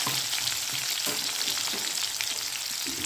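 Mustard seeds, cumin, chopped onion and green chilli fry in a pan with a dense, even hiss and small spatters, steady and close throughout with no voices.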